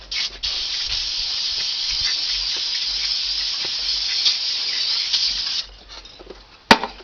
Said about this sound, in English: Now we give her a little rinse.